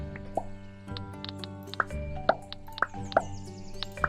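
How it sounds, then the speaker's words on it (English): Water being cleared away in the farming and town-building video game Littlewood gives a series of soft, bubbly plops and drip-like tones, spaced irregularly and heard alone without talk. "get rid of this water I made on accident"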